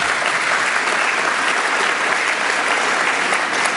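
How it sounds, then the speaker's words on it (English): Sustained audience applause at a conservative political conference, dense and steady throughout with no gaps, many hands clapping in a large room. "And yes, it's appropriate to clap for that."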